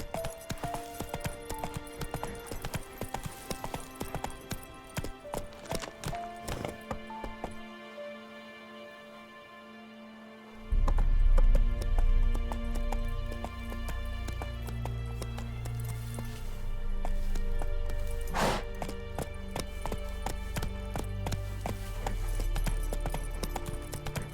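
Roach, a horse in The Witcher 3 video game, with hoof clip-clops trotting steadily under dense game music and ambience, growing louder and heavier midway.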